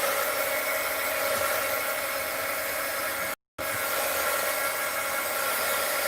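A heat gun blowing hot air to dry paint on a handmade Charlie Brown Christmas tree, a steady, fairly loud whooshing drone that cuts out for a split second near the middle, with no talking.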